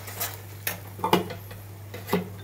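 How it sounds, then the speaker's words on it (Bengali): Katla fish curry with spices is sautéed in a pan on low heat, with soft sizzling and a few sharp scraping and clinking stirs against the pan, close and intermittent over a steady hum. "ভালো করে কষিয়ে নিই।"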